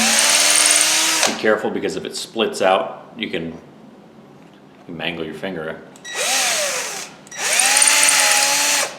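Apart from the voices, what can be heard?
power drill drilling into wood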